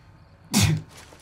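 A single sharp sneeze bursts out close to the microphone, brief and loud against a quiet background, with nothing else following it.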